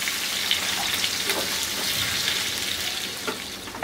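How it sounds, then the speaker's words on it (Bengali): Beef kofta meatballs for an Arabian-style curry fry in hot oil and are turned in the pan, giving a steady close sizzle with a few light scrapes and clinks of the utensil. "একটু ঘুরায় ঘুরায় চতুর্দিকটা একটু ভেজে নিলেই হবে"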